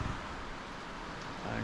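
Heavy rain pours steadily as a broad, even wash of noise in a dark outdoor setting near a waterfall, continuous and moderately loud throughout the short stretch, with no talking.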